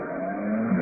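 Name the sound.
car driving away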